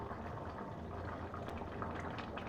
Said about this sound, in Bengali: 1-2 মিনিট আমি হাই ফ্লেমে ফোটাবো